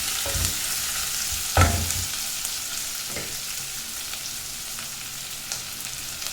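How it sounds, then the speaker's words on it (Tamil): Onions sauté in a pan for Kumbakonam kadappa, a Tamil side dish, with a close, steady sizzle broken by several scraping stirs and clanks, the loudest early on. "இப்போது வெங்காயம் நல்லா வதங்கட்டும்."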